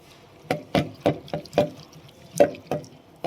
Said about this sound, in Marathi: आपण यात परत पाणी पुन्हा घालू.